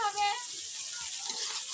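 Food sizzling and frying in a pan during home cooking, a steady faint hiss with light stirring noises, with a brief tonal voice or whistle at the start.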